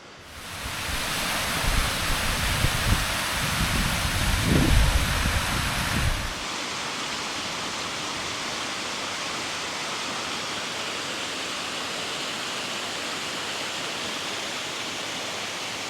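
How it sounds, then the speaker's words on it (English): Waterfall seen from the trail below Ben Nevis in the UK, a continuous broadband rush of falling water, heavier and rumbling for the first six seconds, then a steadier, thinner hiss to the end. "Zoom in on that waterfall."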